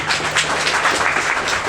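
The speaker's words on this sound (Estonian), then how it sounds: "Cyber Battle of Tartu tõmbame 3. ja viimase faasi ühe suure aplausiga käima kohe praegu." An audience at the Cyber Battle of Tartu hacking competition bursts into sustained applause, a dense, continuous wash of clapping from many hands filling the room throughout.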